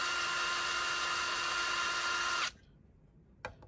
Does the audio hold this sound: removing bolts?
yes